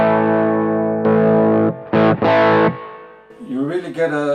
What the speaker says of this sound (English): you really get a kind of a tube screamer kind of sound.